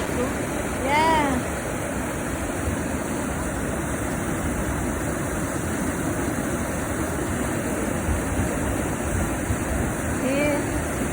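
Constant broadband rush of Elba Falls fills the scene with melting ice nearby, a dense steady water roar with brief chirpy sounds near the start and end and a little talk.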